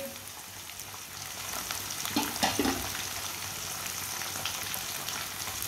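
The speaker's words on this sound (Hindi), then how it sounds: "कलेजी को भी 2-3 मिनट के लिए भून लेंगे।" Chicken liver pieces frying in a pan, a steady broadband sizzle with a brief burst of louder crackling and stirring midway, close and continuous with no talk.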